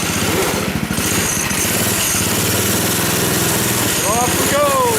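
A small go-kart engine chugs loudly and steadily at close range, a rough pulsing lawnmower-like rumble that holds throughout as the kart pulls away, with a voice briefly over it.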